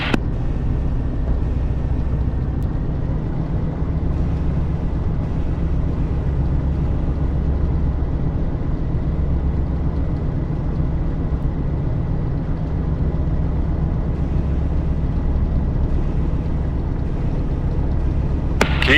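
A Yak-52's engine in the DCS flight simulator drones steadily at high RPM while taxiing, a constant low, throbbing roar with a whooshing wind-like hiss, unbroken for the whole stretch.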